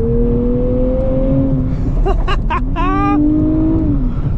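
A 2024 Nissan Z Nismo, 420 horsepower with a rear limited-slip differential, accelerates on twisty roads. A steady engine drone climbs in pitch, then a burst of quick revving rises sharply before settling back into a rising hum.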